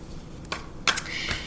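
Tarot cards from a Modern Love deck being shuffled by hand, giving a few brief papery riffles and soft snaps spread across a quiet moment, with no talking.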